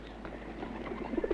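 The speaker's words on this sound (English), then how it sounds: "There's the pigeon there." A pigeon coos a few soft, rounded notes nearby, rising toward the end over a quiet indoor background, with no talk over it.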